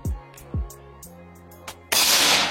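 An SR Super Tactical 500cc air rifle with a 50 cm barrel fires a single shot: a few dull thumps come first, then a loud, hissing burst of noise at close range.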